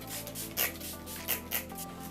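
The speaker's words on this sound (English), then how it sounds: "we'll actually set the face with the real setting spray" Setting spray misted over a made-up face in three short, crisp hissing spritzes, heard close against a steady low background hum.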